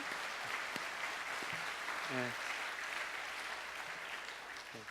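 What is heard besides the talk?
audience applause at a mission conference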